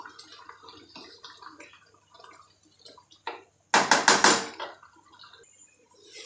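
Chicken curry with tomato and onion simmering in water in an oil-free karahi, giving soft bubbling and liquid stirring sounds with a brief louder burst of clattering, sloshing movement near the end.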